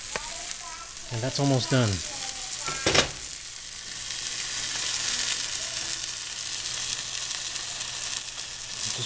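Two steaks fry in a pan as the last liquid burns off, giving a steady, fairly loud sizzle that runs the whole time, with a brief stretch of talk near the start.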